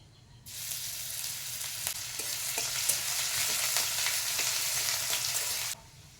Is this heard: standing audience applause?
no